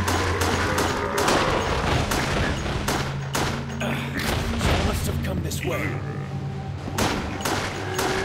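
Repeated gunfire in a zombie video game, sharp close shots in irregular bursts with booming thuds, heard under a voice talking over the action.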